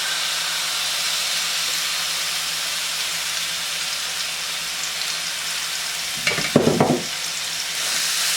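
Marinated chicken frying in about two tablespoons of oil in a frying pan, a steady loud sizzle and hiss throughout, with a brief burst of clattering stirring near the end.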